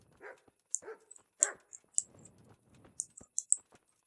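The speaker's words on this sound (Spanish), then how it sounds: "cuidado con los perros que te alertan a la tropa" Dogs bark in the medieval game Kingdom Come: Deliverance, a series of short barks spaced irregularly with sharp high clicks around them, moderately close and without talk.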